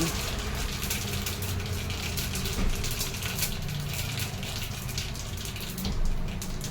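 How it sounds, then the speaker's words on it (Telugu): Heavy rain pouring outside, a dense, steady hiss and rush of water heard from indoors, continuous and fairly loud with slight swells, no voices. "బయట మస్తు వాన పడుతుంది,"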